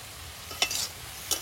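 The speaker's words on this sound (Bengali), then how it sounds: "পটলটা আলগা করে দেখে নেব" Pointed gourd (potol), already boiled, gets stirred in a pan, with two quick scraping, clattering strokes of the spoon over a soft background hum, close and clear.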